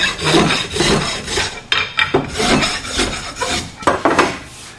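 Steady rasping strokes of a file or rasp shaping the wooden handle of a hammer into a long oval, rubbing rough edges smooth in a quick, uneven rhythm with scraping bursts close up and no talk.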